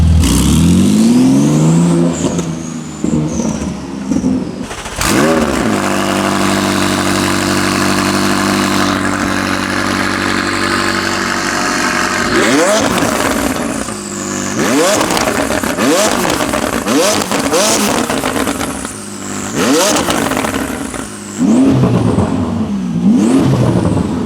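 A Porsche GT2 RS engine with straight pipes and valves held open revs hard and loud, rising and falling in pitch through repeated throttle blips, with a steady high idle drone between bursts.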